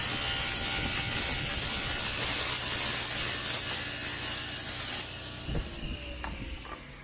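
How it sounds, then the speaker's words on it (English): A saw blade cutting the dado off a wooden drawer back, a loud steady whine and rasp of blade through wood that stops abruptly near the end, followed by quieter knocks and the blade winding down. "I then set up the blade to just cut off the dado."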